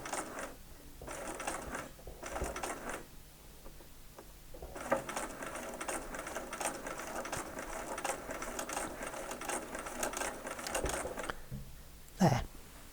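A sewing machine stitches a seam in short bursts, then a longer steady run of rapid mechanical whirring and ticking, ending with a brief sharp scrape.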